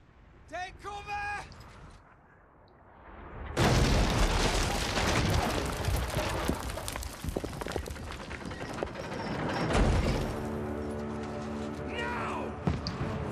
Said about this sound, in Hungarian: Ettől a lövéstől kinyílt a kapu.